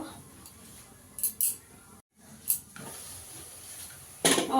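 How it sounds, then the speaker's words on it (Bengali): Spice paste with Kashmiri chilli powder being stirred and fried in a pan, with faint sizzling under a few sharp metallic clinks and scrapes of a spoon against the pan, close and intermittent. "মশলাটাকে একটু চাপা দিয়ে ভালো করে কষিয়ে নেব।"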